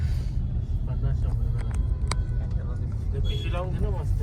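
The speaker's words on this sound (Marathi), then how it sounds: "बेकार ट्रॅफिक आहे" Steady road traffic with a constant low engine rumble from passing cars and other vehicles, close and continuous, with voices talking over it.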